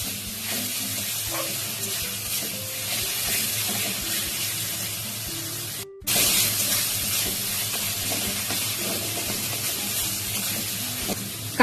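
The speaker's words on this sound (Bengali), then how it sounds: "মশলাটা খুব ভালো করে কষে নেবো" Spice masala with Kashmiri chili powder sizzles steadily in a pan while being sautéed for a crab curry, a continuous close frying hiss with soft stirring scrapes and a brief break midway.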